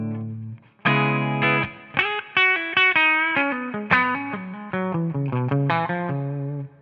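Electric guitar played through a Two Stone SS Ultimate amp with the bright switch engaged, a clean, snappy tone: a sequence of plucked notes and chords ringing out close and loud, each decaying before the next, with no talking.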